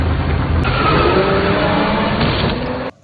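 A Jeep in a film speeds toward a policeman with a loud, steady roar of engine and tire rumble, close and continuous, ending abruptly in a brief cut near the end, with no talking.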